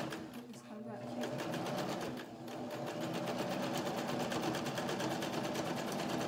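A sewing machine runs a test stitch at its longest stitch length for an in-the-hoop bib, a steady fast mechanical whirr with rapid needle ticks that continues loudly and without pause throughout.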